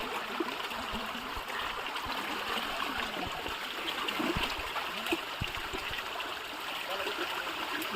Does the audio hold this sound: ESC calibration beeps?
no